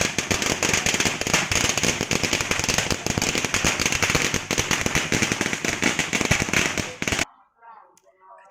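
Firecrackers set off at a Thai temple during a vow-fulfilment offering: a dense, continuous crackling barrage of rapid loud pops lasting about seven seconds, then cutting off abruptly to near silence.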